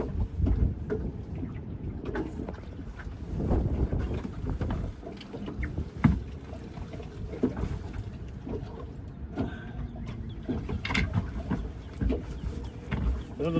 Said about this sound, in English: What's making matters worse is the wind is shifting just constantly.